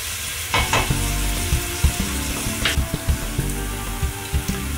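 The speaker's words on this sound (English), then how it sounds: "sweating off the onions" Onions sweating in a pan at the start of a homemade lasagna sauce, with a steady sizzle broken by frequent scrapes and knocks of a spoon stirring, close up and fairly loud.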